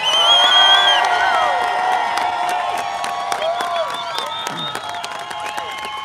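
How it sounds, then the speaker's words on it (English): A rally crowd in Sacramento applauds loudly, with cheers, whoops and whistles rising over sustained clapping that slowly thins out. "Let's give Nick Shirley a big round of applause"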